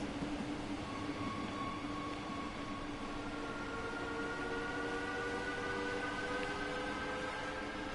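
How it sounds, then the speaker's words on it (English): A video-game rapid transit train in Leipzig rolls past steadily with a constant rumble and sustained high tonal whines from the wheels and motors, no talking. "This train here was waiting for us to pass."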